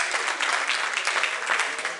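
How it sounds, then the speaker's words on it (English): A church congregation claps hands in praise during a worship service, producing dense, steady, loud applause that holds evenly for the whole stretch with no voices breaking through. "clap your hands one more time and give God some praise"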